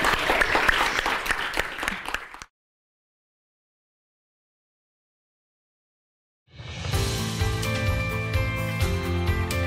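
Audience applause and cheering rise loud for about two seconds, cut to silence, then give way to music.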